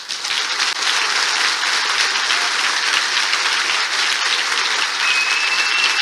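An audience at a Christian worship gathering breaks into loud, sustained applause, dense clapping filling the room steadily for several seconds without speech over it.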